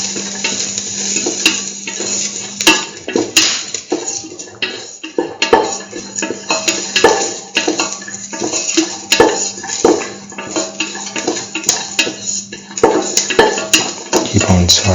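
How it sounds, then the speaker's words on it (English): Garlic pieces sautéing in a pan with a lentil rice mixture, a busy sizzle under repeated scraping and clinking of a spatula against the pan, close and loud, with no talking. "saut the garlic pieces thoroughly with the rest of the mixture"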